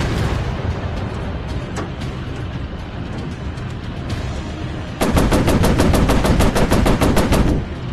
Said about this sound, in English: Damn machine guns? Overheating too fast.